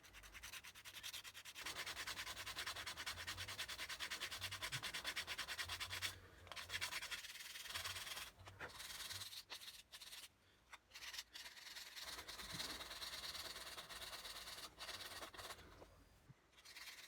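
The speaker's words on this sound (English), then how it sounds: "now you're just gonna sand that down." Sandpaper rubs steadily over a jerkbait lure body in quick, close, continuous back-and-forth strokes, broken by a few brief pauses.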